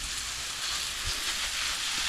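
Garden hose spraying water onto a home garden, a steady broadband hiss with soft patter like rain, continuous and fairly faint throughout.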